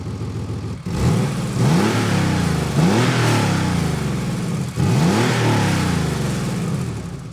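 Air-cooled Porsche 964 Carrera 4 flat-six, freshly tuned and fitted with a Fab-Speed exhaust, loud and close as it pulls through repeated upshifts, with rising revs broken by brief dips between gears and no voices.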